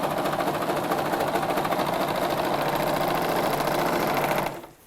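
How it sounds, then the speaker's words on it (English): Sewing machine stitches fabric steadily along a curved seam on scrub trousers, a continuous close whirring hum with rapid needle rhythm that stops abruptly near the end. "When we get to a curve, we straighten the fabric and curve it round."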